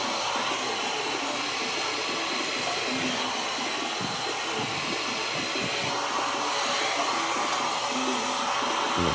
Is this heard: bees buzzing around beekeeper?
no